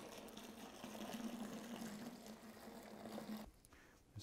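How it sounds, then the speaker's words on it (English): Cold water pours from about shoulder height into a homebrew beer batch, a steady splashing fill with a faint tonal hum that stops abruptly near the end, quiet and close. "now we're going to take the cold water and we're going to pour it from about shoulder height."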